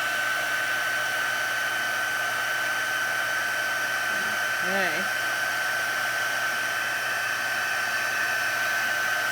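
A heat embossing tool blows hot air over delicate paper with a steady, loud, hissing whir and a high whine throughout; a voice speaks a single brief word partway through.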